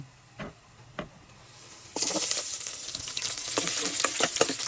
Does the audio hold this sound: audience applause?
no